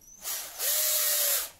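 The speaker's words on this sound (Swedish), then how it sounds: "borrmaskinen." An electric drill spins up in a brief, loud whine, rising and holding steady before cutting off, close by, as it drills into the rubber sole of a jogging shoe to fit studs.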